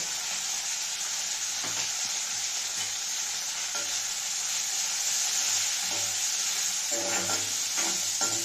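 Onions frying with turmeric in a pan, a steady bright sizzle throughout with occasional stirring scrapes and clatters, close and constant with no talk.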